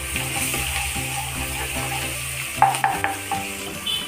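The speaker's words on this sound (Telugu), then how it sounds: "అల్లం ఎల్లిగడ్డ పచ్చి వాసన పోయేదాకా కొంచెం సేపు ఫ్రై చేసుకున్నాం" Ginger and garlic frying in a pan for a ridge gourd chicken curry, soft sizzling under the clink and scrape of a spoon stirring against the pan.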